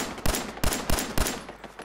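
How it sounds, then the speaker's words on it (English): Bursts of gunfire from raiders attacking a settlement in Fallout 4, four sharp broadband shots spaced roughly a third of a second apart, loud and close, with no talk over them. "I hear gunfire."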